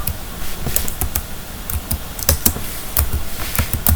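Rapid, uneven keystrokes on a computer keyboard as a search query is typed in Hindi, close and fairly loud, with clustered clicks and no voices.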